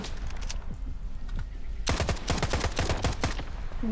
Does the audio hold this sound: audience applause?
no